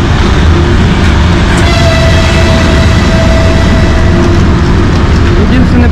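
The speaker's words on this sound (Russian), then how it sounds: "Единственный поезд, который сегодня прибыл вовремя." The Stavropol–Adler passenger train pulls into Lazarevskaya station. A loud, steady rumble fills the whole stretch up close, with a faint high squeal or whine running through it.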